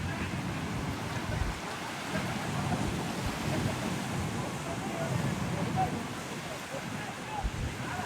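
High waves surging onto a beach at Marsa Matruh, a continuous rough roar of surf with gusty wind buffeting the microphone, steady and loud throughout.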